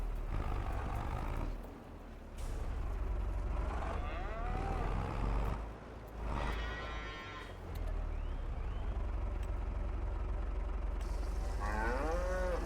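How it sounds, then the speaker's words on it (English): Cattle moo repeatedly in a farming video game's barn area, drawn-out lowing calls spread across the stretch, fairly close, over a constant low machine rumble with no talk. "I should check on the cows, make sure they have enough food for another sleep."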